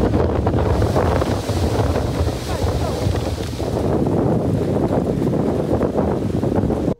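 Strong gusty, dusty summer wind in Ranipet, Tamil Nadu, roars and buffets the microphone, with a dense, steady rush of heavy rain under it.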